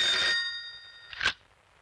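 Telephone bell ringing in short bursts, a bright electronic trill followed by a second brief ring, close and clear with no talking.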